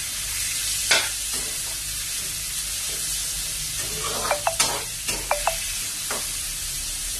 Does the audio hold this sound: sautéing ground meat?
yes